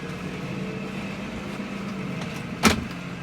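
A 2015 Case Puma 160 tractor with front linkage and PTO drives along, heard as a steady low engine hum from a quiet cab, with a brief louder knock near the end.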